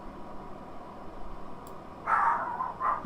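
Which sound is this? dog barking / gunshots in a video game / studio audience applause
dog barking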